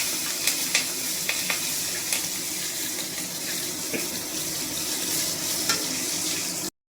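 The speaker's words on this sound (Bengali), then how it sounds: "আমি কড়াতে পাঁচফোড়ন দিয়েছি, আর কী বলে একটু জিরে দিয়ে দিই, হালকা করে এটা রান্না করবো" Panch phoron and cumin fry in a kadai, giving a steady broadband sizzle with a few light clicks of stirring, close and constant until it cuts off abruptly near the end; no one speaks.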